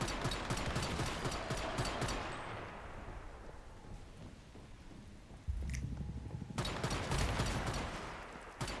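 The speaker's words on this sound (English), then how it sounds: "You just shoot off these last bullets." Gunshots in a video game: dense rapid bursts of firing at the start, fading into quieter rumble, then a further loud volley near the end, with no talking.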